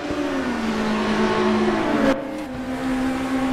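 BMW and Mercedes DTM touring cars from 1992 racing at Road America in a sim racing game, engines droning steadily with sustained tonal whine and a shift in pitch around a gear change, loud and close, no talk.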